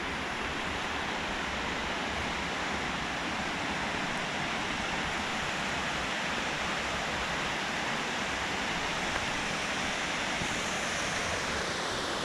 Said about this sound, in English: Creek is just blowing out down there.